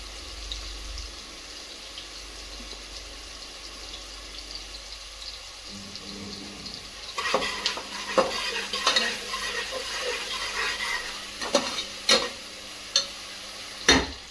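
Onions with a pinch of salt frying in a pan, a faint low sizzle at first, then louder broadband frying with repeated scraping stirs and sharp spoon clicks against the pan toward the end.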